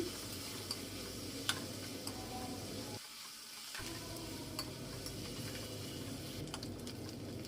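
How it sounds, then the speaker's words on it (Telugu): Chopped onions frying with turmeric in a pan for an eggplant and chickpea masala curry: a steady close sizzle with light stirring scrapes, briefly dipping quieter partway through. "ఉల్లిపాయలు లైట్ బ్రౌన్ కలర్ వచ్చేంత వరకు వేయించుకోవాలి"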